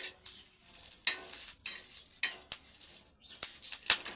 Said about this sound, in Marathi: चांगल्या भाजून घ्यावं लागतात मिरच्या चांगल्या भाजल्या